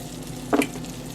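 A little butter and grease sizzle in a frying pan, a steady close frying hiss with a brief louder crackle near the middle, no voices.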